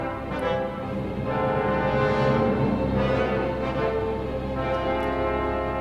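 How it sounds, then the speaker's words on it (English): A full orchestral passage from a James Bond theme with a horn line, sustained brass tones swelling over a dense texture, steady and moderately loud throughout. "And there's this horn line."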